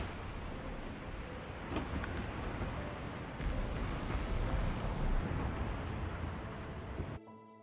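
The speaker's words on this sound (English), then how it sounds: "The sun's light plays upon the waves, just as it always did. The sails flutter in the wind" Waves and sails fluttering in the wind in the video game Divinity: Original Sin 2, a steady soft wash of surf and wind noise that swells slightly midway before cutting off.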